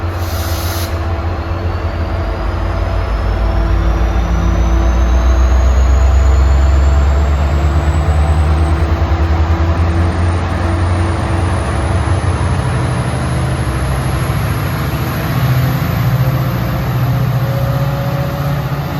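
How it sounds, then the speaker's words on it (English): A Caltrain train hauled by an MPI-built locomotive rumbles steadily close by, its engine drone and rising whine continuous and loud throughout. "These engines are built by MPI"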